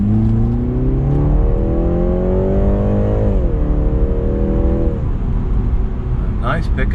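A 2020 BMW 330i pulls strongly under acceleration from inside the cabin, the engine note rising steadily in pitch, dipping briefly at a shift, then climbing again before easing off, loud and continuous with road noise beneath.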